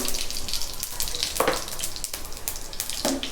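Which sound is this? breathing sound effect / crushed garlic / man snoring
crushed garlic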